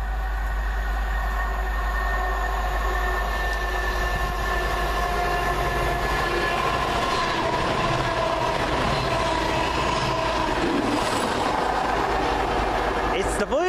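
A CrossCountry Voyager passenger train running from Bournemouth to Manchester Piccadilly passes through Adderley Park station with a continuous low rumble and rising rattle of wheels, steady and fairly loud, with a station announcement voice over it.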